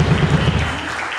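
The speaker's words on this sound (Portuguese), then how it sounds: "Uma salva de palmas." Brief burst of audience applause at a therapeutic community gathering, a short steady patter of clapping heard on its own.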